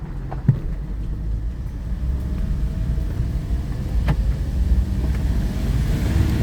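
A 2005 Audi A6 Avant with a 2.7-litre V6 TDI diesel engine accelerates under throttle, a loud low rumbling drone heard from inside the car that builds and holds steadily.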